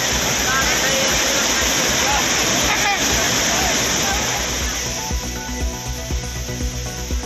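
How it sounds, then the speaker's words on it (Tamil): The flooded Courtallam waterfalls, swollen by continuous rain, roar as a loud, steady wash of falling water, with a voice speaking over the torrent. "தொடர் மழையால் குற்றால அருவிகளில் கடும் வெள்ளப்பெருக்கு."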